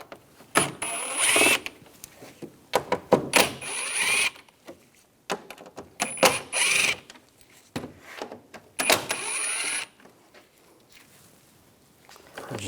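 Bursts of a power tool driving out the T25 bumper cover screws on a 2010-2014 Volkswagen GTI, several short whirring runs with pauses and ratcheting clicks between them, close and fairly loud.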